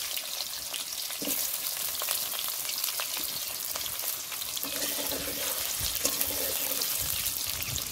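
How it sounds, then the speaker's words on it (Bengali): Potatoes fry with soybean chunks in a pan, giving a steady, close, crackling sizzle throughout with a few faint scrapes and clinks underneath. "এবার আলুগুলো ভালো করে ভেজে নেব"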